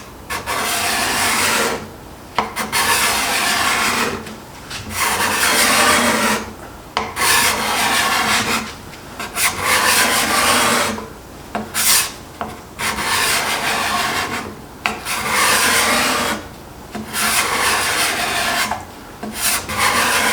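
Burnished card scraper pulled across wood to take shavings, a series of about nine rasping strokes in a regular rhythm with short pauses between them, close and clear with no talking.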